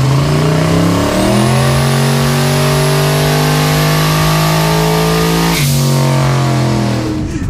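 A turbocharged LS engine on a track day is loud and close as it holds a high rev before the pitch suddenly drops and the roar settles to a rougher, fading note.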